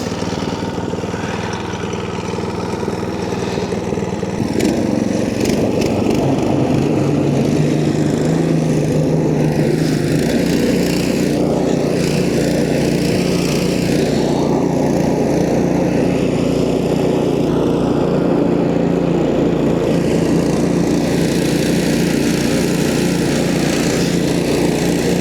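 A small engine on a homemade track sled runs steadily and loudly throughout, its buzzing drone shifting slightly in pitch as it works, close by with no speech.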